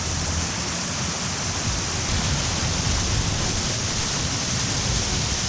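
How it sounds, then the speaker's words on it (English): Massive waterfall at McKenzie Brook Falls near Truro, Nova Scotia, roaring close and loud as a steady, dense rush of falling water that fills the whole clip without a break. "Hopefully you can hear me over this massive waterfall."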